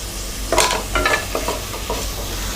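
Onions, tomato and mint leaves fry in a pan for prawn pulao, with a soft sizzle beneath a run of close, scraping stirs from a utensil.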